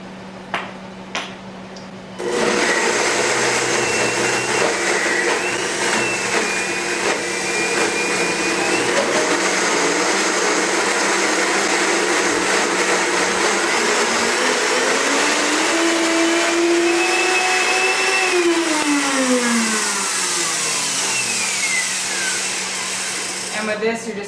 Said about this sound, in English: We're using the Blend-Tec today, but you could use the food processor.